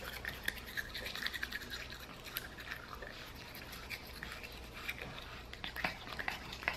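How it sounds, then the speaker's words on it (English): A toothbrush scrubs around a Shih Tzu puppy's mouth, a quiet continuous bristly scratching with faint wet clicks, close but low in level. "I just kind of go around her mouth with the toothbrush"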